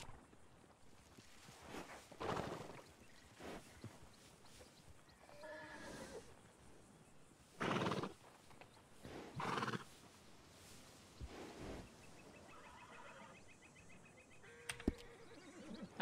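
Video game horses in a Western setting whinny several times, loud and close, over a soft bed of hoof clip-clops and ambient noise, with a sharp click near the end.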